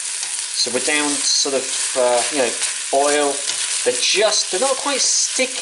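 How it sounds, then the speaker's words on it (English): Onions sizzle and crackle in hot oil in a pan, a steady frying hiss beneath someone talking throughout. "Starting to sizzle a little bit now."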